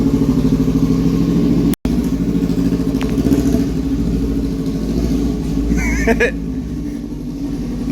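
A motorcycle with a straight-pipe exhaust idles and runs nearby, a loud steady rumbling drone with a brief cut-out, then a lighter tone late on.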